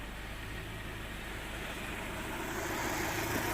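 A Land Rover Freelander 1.8 engine idles with a misfire, a low steady rumble that swells slightly toward the end, heard close with no talking.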